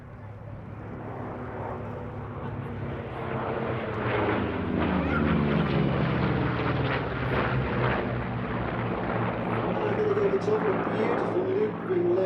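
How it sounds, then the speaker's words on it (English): A yellow-nosed WWII Corsair fighter with a three-blade propeller flying a loop at the Sywell 2024 airshow, its piston engine droning steadily and swelling as the pitch bends, heard at a distance under a commentator's voice. "beautiful loop being led by the yellow-nosed Corsair"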